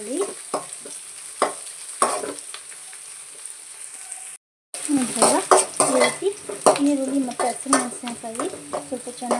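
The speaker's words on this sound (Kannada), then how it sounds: "ನಾನು ಹಸಿರು ಮೆಣಸಿನ್ಕಾಯಿ ಮತ್ತೆ ಕರ್ಬೇವಿನ ಸೊಪ್ಪನ್ನು ಸಹ ಇದಕ್ಕೆ ಸೇರಿಸ್ಕೊಳ್ತಾ ಇದ್ದೀನಿ" Green chilies and curry leaves fry in a pan with a close, lively sizzle, broken by repeated scraping and stirring strokes and occasional clinks of the utensil against the metal.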